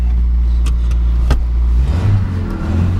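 A 1981 Honda Accord engine running low and loud up close, a few sharp clicks or taps, then a shift in pitch as the revs change partway through.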